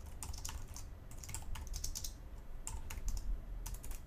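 Quiet, close keyboard typing as code is entered on a computer, in irregular bursts of rapid keystrokes separated by short pauses over faint background hum.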